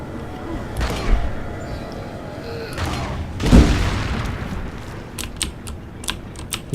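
A video game explosion lands as a deep, heavy boom in the middle, framed by smaller thuds before it and a few sharp clicks afterward, loud and close.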